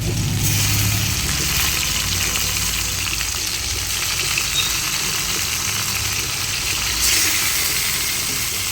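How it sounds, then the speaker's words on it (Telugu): Chicken pieces frying in a hot pan, a loud, continuous sizzle that stays close and steady throughout. "ఇప్పుడు చికెన్ అయితే యాడ్ చేసుకుందాం"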